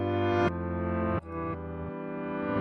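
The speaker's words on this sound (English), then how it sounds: "there's a reverse feature that you can use, and that will throw everything in reverse" Backward-sounding sustained tones that swell up and cut off abruptly, several times in a row, fairly quiet and without any voices.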